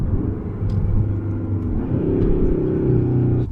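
A Hyundai Sonata The Edge 2.5 turbo N Line accelerating through the gears, its engine a loud, steady drone that steps to a new pitch partway through, as at an upshift, then pulls on evenly.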